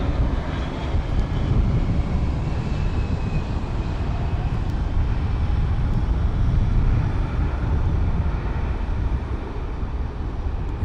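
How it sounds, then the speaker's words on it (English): A JetBlue airliner rolls on the runway at Luis Muñoz Marín International Airport, a steady broad engine roar heard from a distance, constant and unbroken, with no talking. "we got JetBlue hitting the runway, the one way right now"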